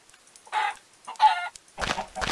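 Chickens in the Minecraft Tekkit Lite modpack clucking in short bursts, a few separate calls followed by quicker cackles, clear and close against near silence.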